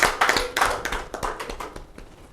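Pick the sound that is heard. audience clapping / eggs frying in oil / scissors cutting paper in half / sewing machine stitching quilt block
audience clapping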